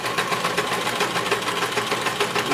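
A sewing machine stitches a child's surgery cap in a continuous, even whirring run with a fast mechanical pulse, close and steady throughout with no talking.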